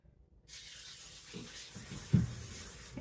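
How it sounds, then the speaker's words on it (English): A steady hiss of cooking spray from a nearby can onto a pancake pan runs for a couple of seconds, with a soft thump partway through. "Okay, give another spray."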